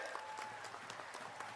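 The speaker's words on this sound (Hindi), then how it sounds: "जरा जोरदार तालियों से इस नगरी पर राहुल गांधी जी का स्वागत करें।" Applause from a crowd at an outdoor Congress party election rally in Shahdol welcoming Rahul Gandhi, dense steady clapping at moderate distance, continuous throughout with no talk over it.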